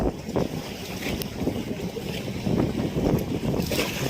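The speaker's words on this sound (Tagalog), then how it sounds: "Ang lakas ng sipol ng hangin." Strong typhoon wind gusts by the sea at Surigao, roaring and buffeting steadily with faint whistling edges and broadband rush over the shoreline, no voices.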